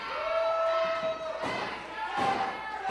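Wrestling crowd at a T2T Academy Pittsburgh show yelling and cheering in a loud, continuous roar, with surges and thumps of bodies hitting the mat, a sustained whistle-like tone running through.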